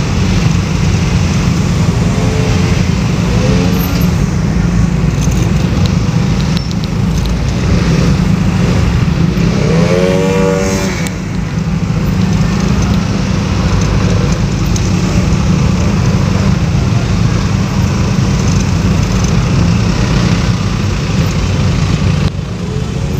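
Dense afternoon traffic jam in Makassar heard from a motorcycle, a steady loud wash of engines and road noise with a few brief horn-like tones rising over it, no talking.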